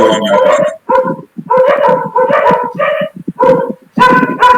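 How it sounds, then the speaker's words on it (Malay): Dog barking in bursts from a house, loud and close, a series of yelps, barks and whimpering yips with short gaps, no talking. "Siapa punya rumah ada anjing ya?"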